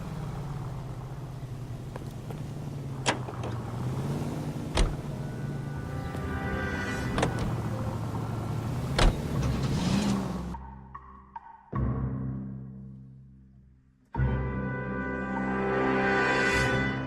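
A car driven in the video game L.A. Noire: a steady engine drone with occasional sharp clicks, then the sound cuts out, returns briefly, drops again and comes back as an even hum.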